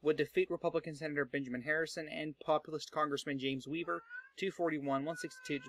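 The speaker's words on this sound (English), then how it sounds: "Sorry, that's my cat." A pet cat meows near a person who is talking steadily. The meows are short and sit under the voice.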